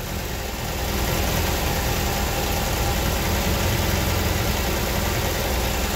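A classic MGB 1800 four-cylinder engine idles with massively over-advanced ignition timing, giving a steady, close, loud mechanical rumble with a constant even texture throughout and no voices.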